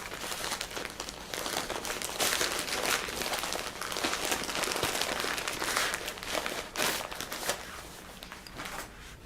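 A mailed package holding toilet paper being opened at home, its plastic wrapping crinkling and rustling in a continuous crackly stream of handling noise.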